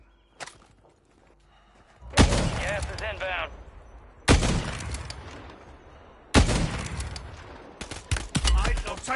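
Gunfire in the video game Modern Warfare 3, with several sharp, loud shots separated by a couple of seconds, each trailing off in echo, and a burst of rapid fire near the end.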